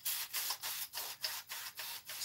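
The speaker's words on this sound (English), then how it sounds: "Spray the tissue paper so it's nice and moist." Seven quick, evenly spaced hissing bursts from a water spray bottle misting tissue paper, each a short airy spritz with brief gaps between them.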